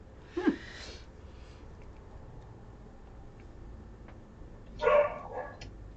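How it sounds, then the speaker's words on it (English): An indoor dog gives two loud, sharp barks a few seconds apart, with a quiet room hush between them. "then my dog barked real loud. She's still doing it."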